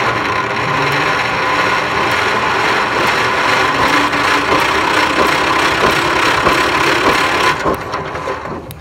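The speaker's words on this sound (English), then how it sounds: "We got it spinning over, probably the longest I've had it" A 1978 IH Cub Cadet 1000 tractor engine, left sitting for 20 years, cranks over with a loud, steady, close whirring drone that holds for about seven and a half seconds before easing off.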